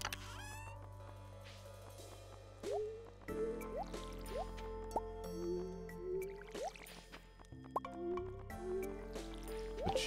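Watering crops in the video game Stardew Valley gives a run of quick, bright dripping and splashing water effects that repeat every second or so. Steady game music plays underneath.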